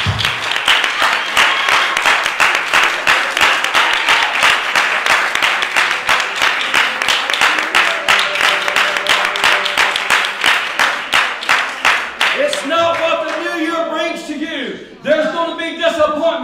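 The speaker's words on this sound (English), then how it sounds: "Can you give the Lord a good hand clap of praise?" A church congregation claps together in a dense, sustained burst of applause, loud and rhythmic, before voices and singing rise near the end.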